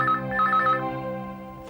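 A telephone rings indoors, a bright electronic warbling tone that sounds for under a second and then fades, close and fairly loud.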